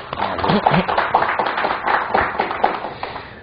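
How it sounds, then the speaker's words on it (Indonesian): An audience at a corporate talk on detecting and preventing corruption claps to welcome a guest. Crisp, fairly close claps form a busy, uneven patter for a few seconds, with no speech over them. "Kita beri tepuk tangan Pak Eri."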